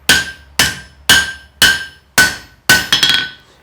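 Six sharp, ringing hammer blows strike a steel tent stake on an anvil at an even pace, each clang decaying quickly, the last blow followed by a quick bouncing rebound; close and loud with no talk.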